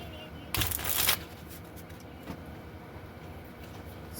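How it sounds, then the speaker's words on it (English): A deck of tarot cards gets a quick riffle shuffle, a half-second flutter of crisp card noise followed by a soft tap, fairly close against a quiet room hiss. "Let me just shuffle."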